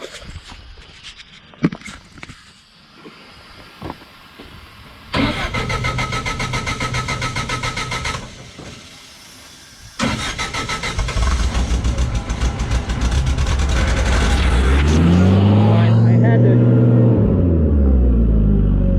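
A Sullair 125Q portable air compressor's engine cranks with clunks and handling noise, catches and roars up, then settles into a loud, steady close-up running drone with a strong low rumble.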